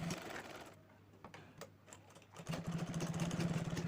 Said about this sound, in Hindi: अब जितने हमने मार्क्स लगाए हैं ना, हर मार्क पर इस तरह से हम सिलाई लगाते जाएंगे।